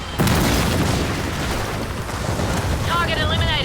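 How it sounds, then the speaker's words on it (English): An airstrike in the video game Gears of War 4 lands as a continuous rumbling explosive roar with booming low end, followed near the end by a rising whistling, whooshing tone. "I'm requesting an airstrike. Airstrike incoming."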